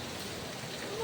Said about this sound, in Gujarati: વરસાદ આવે ને બરાબરનો વરસાદ આવે છે